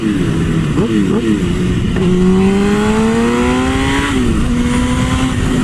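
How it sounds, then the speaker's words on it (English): A performance-modified motorcycle on good tires and suspension, ridden on a November road ride, drops a gear with quick throttle blips and then pulls hard, its engine note climbing steadily, loud and close, with a second blip-and-climb partway through. "if I want to rip down a gear"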